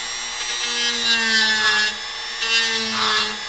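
Close scraping and rasping of a carving tool cutting along the edge of a handmade Final Fantasy V map model of the eastern continent, in two long strokes over a faint steady hum.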